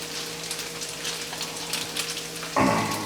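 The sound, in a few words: leftover meatloaf and rice hash sautéing in a pan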